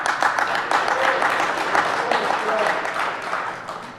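Audience applause fills a DEF CON 20 awards ceremony hall, a dense, steady wash of many hands clapping at close range, with scattered voices and cheers mixed in, easing off slightly toward the end.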